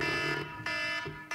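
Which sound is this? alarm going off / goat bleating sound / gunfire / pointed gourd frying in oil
alarm going off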